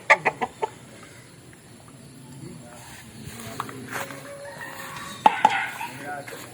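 Backyard hens cluck in a few quick, soft bursts at the start and again near the end, fairly faint, with quiet handling noise and a person's voice between them.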